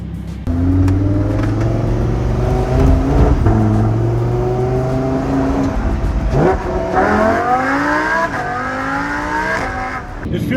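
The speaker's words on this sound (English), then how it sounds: "it has aggressive acceleration and V10 sound" A Lamborghini Huracan with its V10 engine accelerates hard, loud and close, its revs climbing through several gears with quick shifts between rising pitch sweeps.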